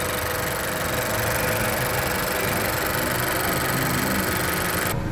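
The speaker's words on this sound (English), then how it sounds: "Okay, with the motor running." A 2016 Honda Civic engine idles steadily with a constant, even mechanical hum and no voices, cutting off abruptly at the very end.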